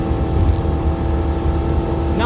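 A Nissan Altima engine held at wide open throttle in third gear, lacking power, drones steadily and loudly with a constant low rumble and no rise in revs, heard from inside the car.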